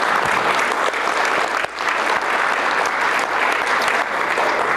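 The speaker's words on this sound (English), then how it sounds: "I think they deserve a round of applause from everybody" Sustained applause from an audience at a political freedom summit session in Washington fills the room, a dense steady roar of clapping throughout with a brief dip midway.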